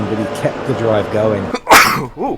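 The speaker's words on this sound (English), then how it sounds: "Sneeze." A single sharp sneeze from a race commentator breaks into his motor-racing commentary during a staff championship round at the Red Bull Ring; it bursts out loud and close right after his talking.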